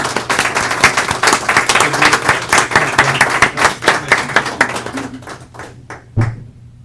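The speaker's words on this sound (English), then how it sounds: "Applause is in order." Close, crisp clapping from a small group at a county board of supervisors meeting carries on steadily, then thins into a few scattered claps and stops.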